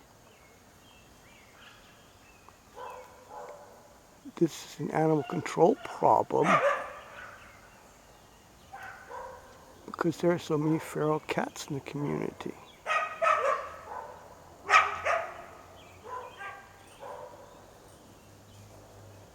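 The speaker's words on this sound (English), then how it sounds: "sometimes that kind of barking seems to be going like chorus barking" Several dogs bark in an overlapping alarm chorus at a moderate distance, in bursts, at feral cats, while a person talks over the barking.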